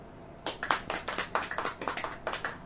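Rhythmic hand clapping from a congregation at a church service, a series of sharp bursts in loose unison repeating steadily, fairly close and without talk.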